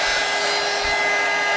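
A hair dryer runs steadily at close range, drying paint on a hoodie: a loud, continuous airy whoosh with no breaks and no talking.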